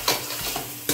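Vegetables for Schezwan corn sautéed on a high flame, a short burst of sizzling with quick stirring scrapes, close and fairly soft, no talking.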